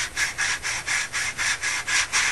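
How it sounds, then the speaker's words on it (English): Sandpaper of about 150 grit rubs back and forth over the wood of a Bluejacket Shipcrafters Grand Banks Dory model, in about nine even, close strokes at a steady rhythm. "is literally sanding down the excess."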